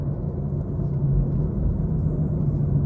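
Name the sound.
BMW M340i engine in sports mode while driving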